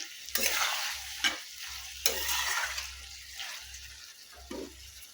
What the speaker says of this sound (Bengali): গ্রেভিটা আর আলুটা দিয়ে দিয়েছি, দিয়ে এবার ভালো করে একটু কষে নেবো